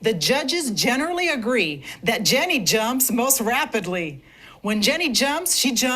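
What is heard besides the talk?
No everyday noise stands out behind the speech.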